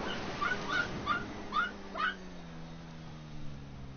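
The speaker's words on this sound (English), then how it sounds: "Sounds like Weeby's bark." A dog gives four or five sharp yips and barks in quick succession, a little distant, in Grand Theft Auto V. A low droning tone carries on after the barking stops.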